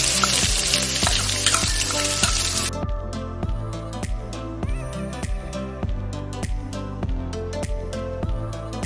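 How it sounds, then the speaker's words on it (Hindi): Loud, hissing sizzle of ginger garlic paste frying with browned onions in a pan cuts off abruptly, leaving a rhythmic background music beat that continues to the end. "अब हम इसमें अदरक और लहसुन का पेस्ट डालेंगे"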